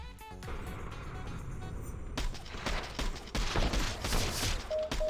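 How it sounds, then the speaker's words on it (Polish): Bursts of rapid gunfire from Counter-Strike: Global Offensive crackle over a rumbling engine-like background, growing denser and louder toward the end, with no talking. "Strzały jak na razie normalne."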